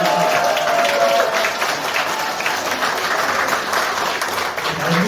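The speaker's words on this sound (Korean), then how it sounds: "큰 박수로 함께 부탁드립니다." Democratic Party members in a Gyeongbuk provincial office meeting room applaud loudly, a thick, continuous roar of clapping that stays strong throughout, with faint crowd voices mixed in.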